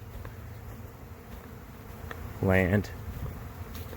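A honey bee swarm hums steadily outdoors as a low, continuous buzz, with a short voiced word cutting in briefly over it.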